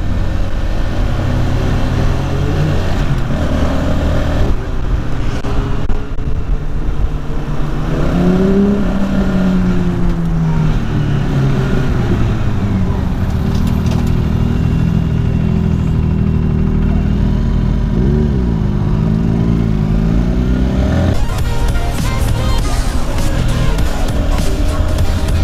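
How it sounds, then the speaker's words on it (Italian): A vehicle's loud exhaust rumbling from behind on the road, a continuous low engine drone that rises and falls with revving and passing movement, heard from inside a car. "Sento il suo scarico forte."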